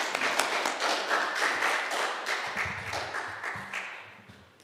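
A church congregation claps in welcome as a visiting pastor comes forward at a Wednesday service, a dense burst of clapping that gradually thins and fades over a few seconds, with a faint low murmur underneath.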